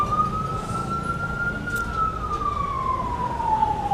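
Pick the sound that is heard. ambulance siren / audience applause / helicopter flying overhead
ambulance siren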